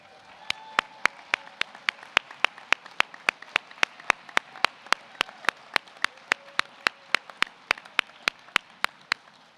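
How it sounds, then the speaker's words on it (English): Graduation audience at an optometry college convocation giving a round of applause, heard as a steady train of evenly spaced sharp claps, close and distinct, running throughout over a faint murmur. "thank them and the people watching at home for, well, everything by giving them the best round of applause we've heard today"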